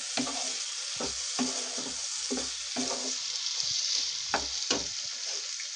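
A spoon stirs cooked tinda and chappan kaddu (pumpkin) sabji in a pan, with rhythmic scraping strokes about every half second over a soft continuous sizzle, close and moderately loud.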